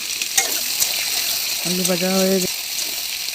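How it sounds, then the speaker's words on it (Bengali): Potato pieces sizzle in hot oil with black cumin seeds in a home kitchen pan, a steady bright frying hiss with a brief stirring clatter and a short tonal beep partway through. "আলু ভাজা হয়ে গেছে।"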